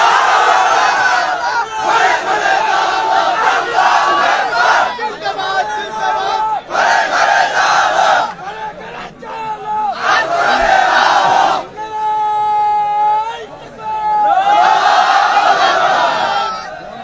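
A large crowd at a rally in Nilphamari chants the takbir, loud, massed shouted phrases rising and falling in repeated waves, with a lead voice calling and the crowd answering in unison.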